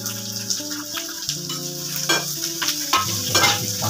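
Chopped onion frying in hot oil in a pan for an onion dish, a close, continuous sizzle with scraping stirring strokes, under steady background music.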